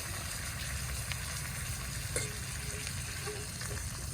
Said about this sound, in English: let it sear the bottom side of that